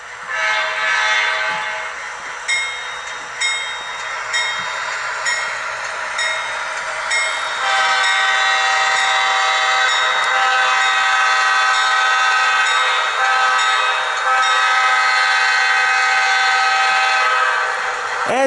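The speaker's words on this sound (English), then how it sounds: "we have a MTH Norfolk Southern Dash 9 with the Proto Sound 3." MTH Norfolk Southern Dash 9 HO-scale model locomotive with Proto Sound 3, sounding its horn in long sustained multi-tone blasts over continuous diesel engine rumble, loud and close, no talk.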